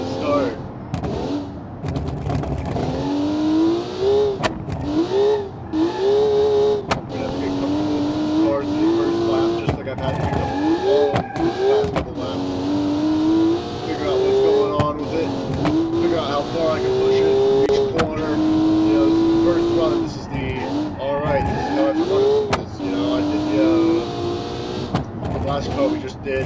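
Racing video game car, a Turismo, engine droning and shifting pitch steadily through a race, rising and falling with throttle and gear changes, while someone talks over it throughout.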